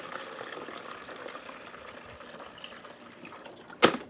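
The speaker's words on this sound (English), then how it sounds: "Let's pour some water in it." Water pours steadily into an old, worn-out coffee machine for about four seconds, a continuous splashing trickle that ends with a brief sharp clatter.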